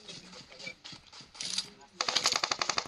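Rapid gunfire in the mobile battle royale game BGMI, with bursts of automatic shots building to a loud, dense volley near the end, heard over voices talking.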